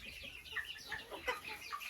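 Chickens in an outdoor run at a dacha, clucking softly in a quick, irregular chatter of short calls, fairly faint and steady with no talking over them.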